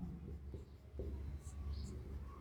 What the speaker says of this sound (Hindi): तो मैं लिखता हूं माना